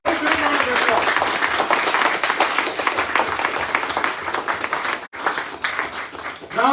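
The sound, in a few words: audience applause at event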